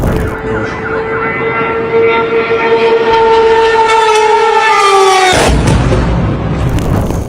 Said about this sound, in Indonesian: Terdengar adanya suara sirine yang meraung-raung karena serangan rudal dari Iran ini.